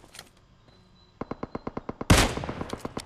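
Rapid automatic gunfire in PUBG Mobile on the Erangel map: a steady burst of about ten sharp shots, then a loud blast and more shots, close and loud with no talk.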